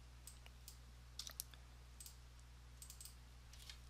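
Soft, sparse keystrokes on a computer keyboard: isolated taps and short clusters of clicks over a faint steady hum, ending with a louder knock.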